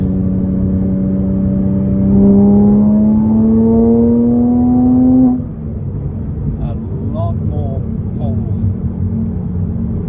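A Porsche Cayman S engine accelerates above 3,000 RPM, a loud rising drone with clear climbing harmonics that holds and then drops off sharply into a lower cabin rumble, with someone talking over the second half.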